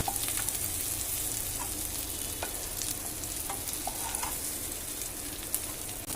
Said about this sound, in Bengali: আমরা এপিট ওপিট উল্টে ভালো করে ভেজে নিচ্ছি।